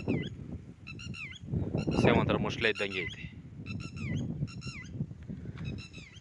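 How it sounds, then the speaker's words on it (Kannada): Outdoors, a bird gives repeated bursts of harsh, honking calls in short clusters. The calls are fairly close and sound over a man's conversational speech. "ನೋಡಿ ಆ ಪಕ್ಷಿ ಎಷ್ಟು ಚೆನ್ನಾಗಿ ಕೂಗ್ತಾ ಇದೆ"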